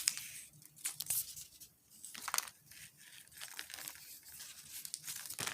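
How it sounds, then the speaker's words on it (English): Scissors snipping a glue-backed paper strip for a craft, heard as a few close, sharp crinkly cuts and paper rustles at a quiet level, with no talking. "I'm going to snip it with the scissors"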